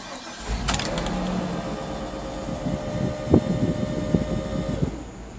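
A 1999 GMC Topkick/Kodiak U-Haul truck with about 159,000 miles cranks briefly and its engine catches, settling into a loud, rough, close idle with occasional knocks and clunks.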